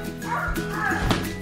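A dog barks on an outdoor porch, a couple of quick close woofs against a busy background of voices and noise.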